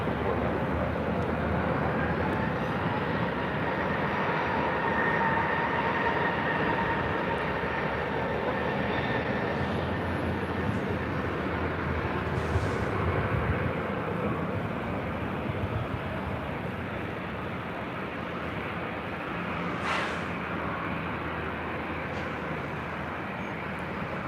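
An Alaska Airlines Boeing 737-800 takes off from LAX bound for Seattle, a steady, moderately distant jet roar holding broad and even throughout, with no talk.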